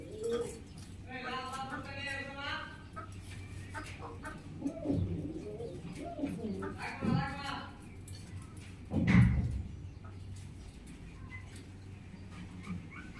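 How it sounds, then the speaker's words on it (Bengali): Pigeons kept together in a crowded cage loft, breeding, give soft cooing and low calls in bursts throughout, with fainter harmonic calls and a duller thump, steady background noise under it all. "দেখেন কতগুলো কবুতর একসাথে রাখছি, তারপরেও ওরা কিন্তু অলরেডি ব্রিডিং এর অবস্থা দেখেন"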